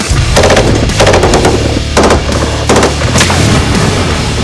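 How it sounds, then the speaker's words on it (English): Machine guns on WWII half-tracks, an American M3 and a German Hanomag, fire short controlled bursts at a firing range, with loud rapid repeated reports in several distinct volleys across the span. "Right, Freddie, Lewis, Nick, Phil, in your own time, short control bursts, carry on."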